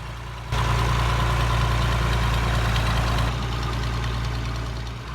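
Idling diesel engine of a farm tractor hitched to a mixer wagon on a dairy farm, a steady low rumble with a rhythmic knock, getting louder when a nearby door or barrier opens and then easing slightly.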